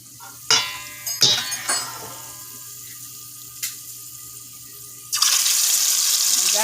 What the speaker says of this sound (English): I'm going to fry them up.